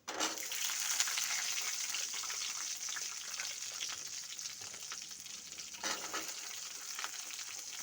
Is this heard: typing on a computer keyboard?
no